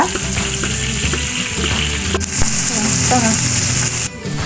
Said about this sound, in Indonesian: Lanjut kita goreng cabenya Bunda.